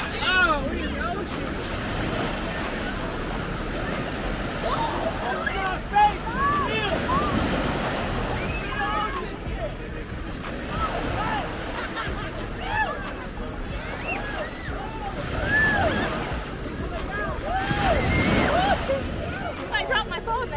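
Ocean surf rolls and splashes continuously near a resort beach in Hawaii, with wind buffeting the microphone and people talking over the water.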